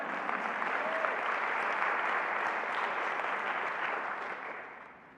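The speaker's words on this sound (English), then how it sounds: "Give yourself a round of applause for working hard." Audience at a talk giving a round of applause, a dense even wash of clapping that holds steady and then fades out near the end.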